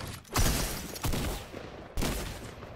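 An exotic rocket weapon fires in the Fortnite video game. Three loud blasts arrive about a second apart, each a sharp burst with a trailing rumble.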